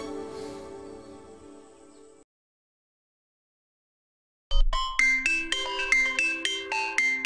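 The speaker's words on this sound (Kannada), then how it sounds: "ಫೋನ್ ರಿಂಗ್ ಆಗ್ತಿದೆ ನೋಡು." A mobile phone ringtone starts loud and close after a moment of silence, playing a repeating bright melodic pattern with a series of chiming notes.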